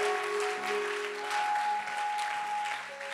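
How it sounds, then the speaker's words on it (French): A church congregation applauding and cheering for the Lord, a steady swell of clapping and voices with sustained music tones underneath. "Acclame pour le Seigneur."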